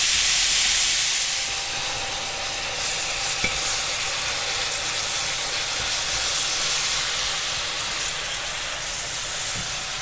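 Steady loud sizzling of mince frying in a pan until golden brown, a continuous hiss with an occasional scrape of stirring, no voices.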